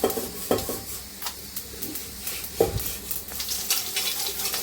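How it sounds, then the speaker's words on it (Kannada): Mustard seeds in hot oil in a frying pan, a low sizzle broken by a few sharp knocks and scrapes of a spoon against the pan, close and fairly quiet. "ಬಾಣಲೆಗೆ ಬಿಟ್ಟು ಎಣ್ಣೆ ಹಾಕಿದ್ದೀನಿ ಮತ್ತು ಅದಕ್ಕೆ ಸಾಸಿವೆ ಹಾಕ್ತಾಯಿದ್ದೀನಿ"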